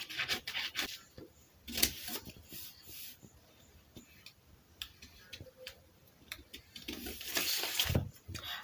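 Scissors cut out a fabric back pattern for a simple corporate gown, giving close, intermittent snips and crisp rustles of cloth in short irregular bursts with no talking.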